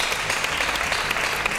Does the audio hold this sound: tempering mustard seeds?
no